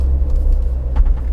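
Ineos Grenadier off-road vehicle engine climbs a side slope with a deep, steady low rumble that holds constant at close range, with faint creaks and knocks over it.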